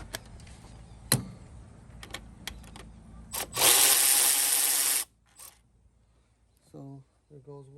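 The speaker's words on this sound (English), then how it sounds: "we're going to speed things up a little bit by using a ratchet" A ratchet loosening bolts on a Mercedes Sprinter EGR valve gives a loud, fast burst of clicking for about a second and a half, set among quieter mechanical taps, with someone briefly talking near the end.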